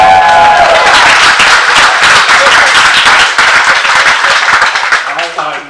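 A comedy night crowd at a standup show bursts into loud, dense applause and clapping with some cheering, which holds steady before tapering off at the end as a voice starts to speak.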